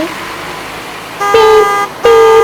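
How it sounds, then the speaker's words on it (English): A school bus horn gives two loud, close honks, each held for about half a second, over a steady engine or traffic rumble. "Can you guys pretend to honk the horn with me?"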